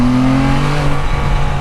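A BRP Can-Am Spyder RT three-wheeler engine accelerates hard, its loud, steady, close-up mechanical drone holding strong and rising slightly in pitch for under two seconds, with no talking.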